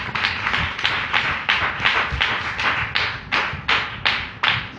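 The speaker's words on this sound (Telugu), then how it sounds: "కొట్టు చప్పట్లు గట్టిగా." A church congregation claps in unison during a pastor's sermon, about a dozen loud, evenly spaced claps in a brisk steady rhythm, with no talking.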